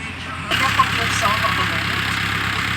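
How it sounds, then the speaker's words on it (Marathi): A steady tractor engine idles from about half a second onward, a low rumbling drone that continues throughout with faint chatter over it. "हे बघा ट्रॅक्टर चालू आहे."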